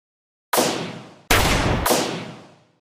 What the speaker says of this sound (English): pierced by the sound of 3 gunshots